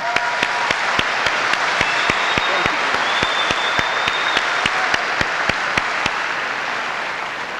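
Loud, sustained audience applause at a high school graduation ceremony, dense clapping from a large crowd with sharp individual claps standing out throughout.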